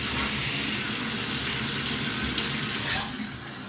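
Water pours steadily from a Speakman Icon brass 8-jet shower head, a loud, dense, continuous hiss and splash that thins slightly near the end; no talking.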